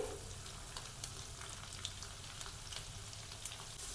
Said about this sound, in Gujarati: ભીંડાને આપણે અહીંયા તળી લેવાના છે